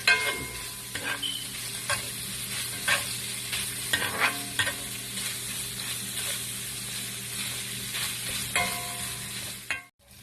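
Longganisa sausage sizzles in a hot pan as it toasts, with a steady bright crackle. Frequent clacks of a utensil stirring and turning the pieces cut through it, close up and with no voices.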